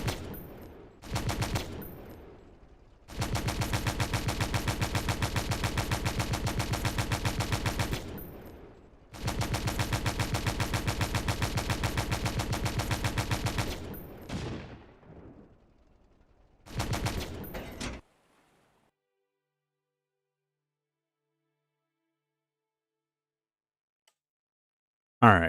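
Long sustained bursts of rapid machine gun fire in the Stormworks vehicle game, loud and evenly paced, broken by short pauses and a final brief burst before silence.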